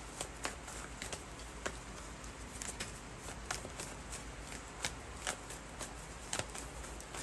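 Tarot cards are shuffled and drawn in a quiet, continuous riffle with crisp repeated snaps and flicks, close but soft.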